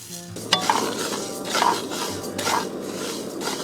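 Hemp seeds and soybeans are stir-fried in a wok, with a dense dry sizzle and crackle and a few metallic spatula clinks and scrapes against the pan.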